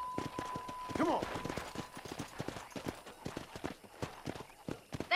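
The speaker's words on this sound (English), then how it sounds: "I'm gonna mount my horse." Horse hooves clip-clop at a steady riding pace in the Red Dead Redemption video game, with a brief whinny early on and game speech running underneath the rhythmic footfalls.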